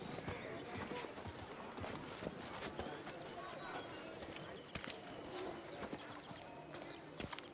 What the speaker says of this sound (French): J'ai récupéré mon cheval.